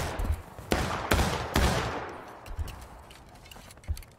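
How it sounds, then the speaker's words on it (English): Musket volleys from a Civil War battle in the video game War of Rights, several loud sharp cracks around the first 1.6 seconds, then scattered fainter shots in the distance. "I want a constant fire on them. Keep it up, boys. Keep the fire up."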